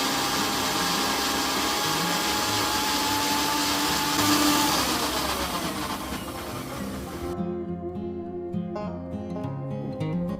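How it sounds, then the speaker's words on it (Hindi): Electric mixer grinder running, grinding chutney made with salt, a loud steady motor whine that holds for several seconds, then slows and winds down while rattling softly toward the end, with no voices. "इसको मैं थोड़ा सा पीस लूँगी"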